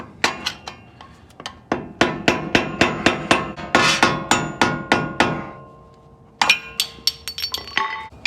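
A mallet tapping a Ford wheel cap loose, a long run of sharp metallic knocks in quick even rhythm, close and loud, pausing briefly before a final burst of taps.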